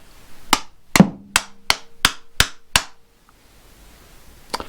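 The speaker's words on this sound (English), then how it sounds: "That's the wrong size wrench." Metal tool knocks on rifle scope parts: seven sharp, close taps in a fairly even rhythm, then a pause and one more tap, with no talking.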